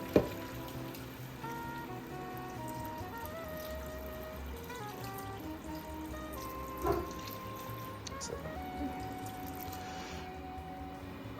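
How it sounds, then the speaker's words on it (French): One and a half litres of water pour into a cooking pot for pastilla over maximum heat, with a faint steady rushing and light sizzling, a few soft clinks of cookware, and no voices. "Je vais maintenant mouiller le tout avec 1 litre et demi d'eau"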